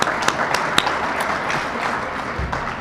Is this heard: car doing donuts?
no